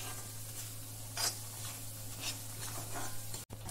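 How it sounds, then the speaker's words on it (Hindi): Moong dal roasting in ghee in a pan over medium heat, stirred with a spoon, giving soft scraping and light sizzling, with a few brighter scrapes against the pan over a steady low hum. "अब इसको मीडियम आंच में इसको भूनेंगे"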